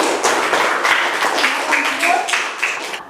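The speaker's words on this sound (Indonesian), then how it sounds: "Tepuk tangan dulu nak." Elementary school children applaud in a classroom, a quick run of many overlapping hand claps, close and lively, lasting about three seconds.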